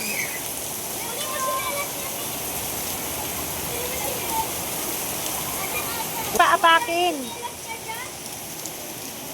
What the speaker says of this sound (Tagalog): Maulan po dito. It's raining.